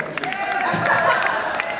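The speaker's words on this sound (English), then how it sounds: "we can all give ourselves a big round of applause" Audience applause at a Shell dealers convention, a dense, steady wash of clapping from a large crowd with cheering and voices mixed in, sustained throughout.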